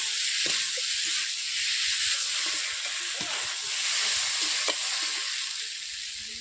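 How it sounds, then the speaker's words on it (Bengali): Pointed gourd and potatoes fry with spices in a pan, giving a steady, close sizzle and hiss throughout, broken by a few soft scrapes of stirring and no talking. "আমি ভালোভাবে পটল আলুগুলোকে আমি কষিয়ে নিচ্ছি একটু ভালোভাবে"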